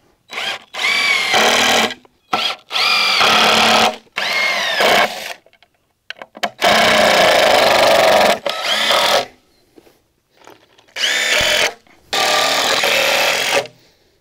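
A power drill driving screws into the wood of a feed bunk, close and loud, in several bursts of whining motor each lasting one to two seconds, separated by short pauses.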